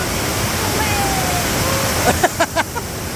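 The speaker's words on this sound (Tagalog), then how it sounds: "Nandito na tayo sa San Falls." Steady broadband roar of water falling at Sangbay Falls, constant and moderately loud throughout, with a few short splashes or voices near the end.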